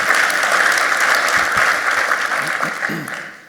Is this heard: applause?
yes